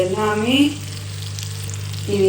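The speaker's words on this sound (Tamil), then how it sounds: "பக்கத்துலேயே மீன் ரோஸ்ட் போட்டுட்ருக்கேன்." Fish roast frying in a pan, a steady close sizzle that runs throughout, with brief bits of voice near the start and end.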